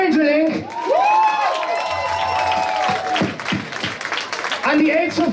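Applause and cheering from a concert crowd for a band at the ChurchInn in Leverkusen, clapping and whoops running beneath a loud announcer's voice.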